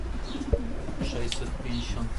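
Racing pigeons coo softly during basketing for a first competition flight in Kosakowo, a steady low murmur of several birds close by, with faint voices and handling noise in the background.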